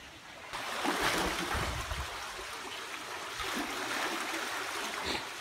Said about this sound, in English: This is where the water comes out from the Derwent.